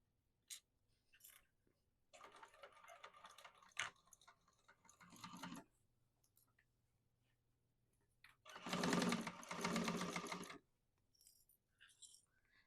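A sewing machine stitches a seam on a modified Mercury Bag, starting at the top with a narrow seam allowance, in two separate bursts of rapid whirring with quiet pauses and small clicks between them.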